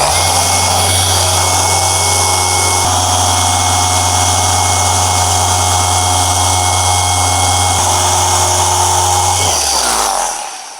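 A machine polisher running steadily with Fast Correcting Cream on the scratched paint of a ceramic-coated car, a loud continuous motor hum with a slight pitch shift partway through, winding down at the end with no talk.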